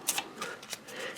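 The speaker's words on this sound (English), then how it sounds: "Shuffle the deck." A deck of cards for the Munchkin Loot Letter card game is shuffled in a quick burst of soft riffling clicks and flutters, close and moderately quiet, with no talking.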